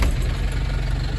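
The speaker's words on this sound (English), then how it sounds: "I think with this engine running, we'll have more power." A Beetle buggy engine runs at a steady idle, a continuous low rumble that stays even and close throughout with no pauses.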